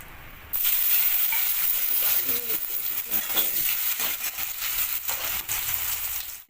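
Potatoes go into hot oil tempered with cumin and bay leaves for a fish curry. They start frying with a sudden loud sizzle that continues steadily while a spoon stirs them.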